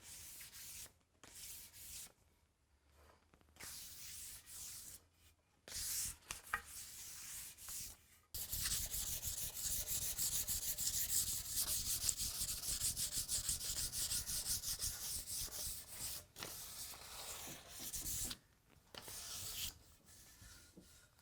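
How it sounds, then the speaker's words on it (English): Light hand sanding of chair parts from a wooden chair kit: soft, rasping strokes in short bursts with pauses, then a longer stretch of steady rubbing, close by. "This is just a really, really light sanding, minimal finger pressure just to knock off any rough spots"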